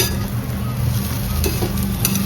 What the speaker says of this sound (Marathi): आता ते व्यवस्थित परतून घेऊया